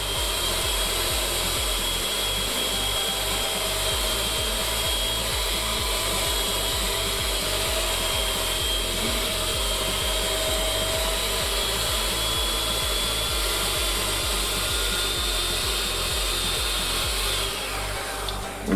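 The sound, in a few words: electric mixer beating chocolate cherry cake batter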